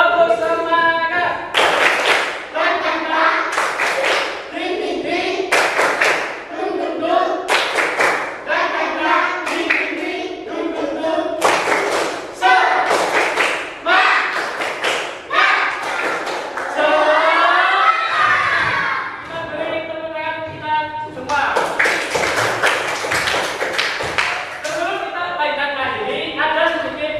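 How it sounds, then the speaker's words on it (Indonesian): A class in an Islamic religious education teaching session on congregational prayer performs the rhythmic tepuk semangat spirit clap, with repeated bursts of patterned clapping alternating with group chanting voices. "Ayo, tepuk semangat."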